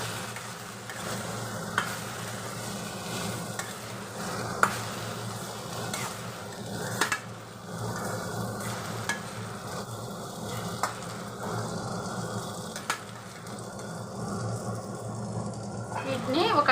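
Sliced brinjal fries in a pan with salt and turmeric and is stirred. A steady oil sizzle runs throughout, with the spoon scraping the pan now and then.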